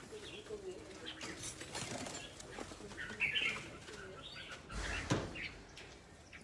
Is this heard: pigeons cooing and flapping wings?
yes